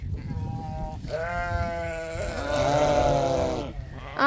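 Goats on a rural village homestead bleat in several drawn-out, wavering calls, one after another and close by, over a low background murmur.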